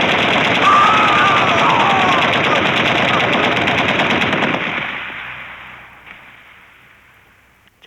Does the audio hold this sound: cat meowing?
no